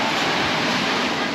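Surf rolling onto a beach at Polillo Island in Quezon Province, a continuous even hiss of breaking water, close and unbroken, with no speech.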